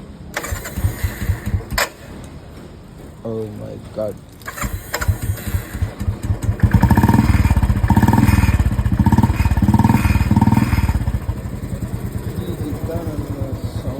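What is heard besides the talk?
Royal Enfield motorcycle starting and running with short bottle silencer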